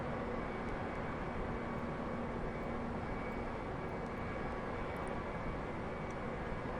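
Simulated L-1011 TriStar jet engines taxiing in Flight Simulator X, a steady, even drone with a faint whine running unchanged throughout, fairly quiet and with no talk.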